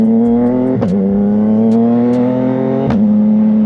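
CFMoto 675SS sport motorcycle with an aftermarket exhaust idles loud and close with a steady deep drone, sharp blips of the throttle cutting in near the start and end.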